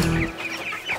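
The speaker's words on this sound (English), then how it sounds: "That was herding chickens right there." A brief burst of chicken clucking, close and fairly quiet, lasting about a second.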